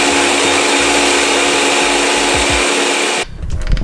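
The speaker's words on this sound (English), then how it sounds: "we go and we blend" A kitchen blender whirs loudly and steadily as it blends salsa with oregano for bean-and-cheese pupusas, then cuts off abruptly near the end.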